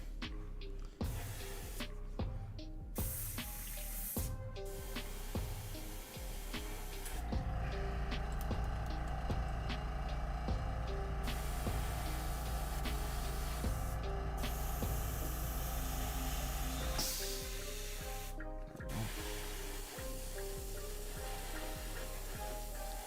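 An airbrush at maximum pressure spraying Stynylrez primer, a steady hiss that runs for several seconds, broken by short bursts and pauses with small clicks between.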